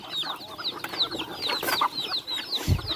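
Chickens clucking in short, repeated calls, fairly close, with a steady barnyard murmur and a brief low thump near the end.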